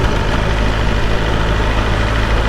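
A BMW S1000RR sport motorcycle engine runs at low town speed in road mode, giving a steady, close and loud mechanical drone with a deep low rumble.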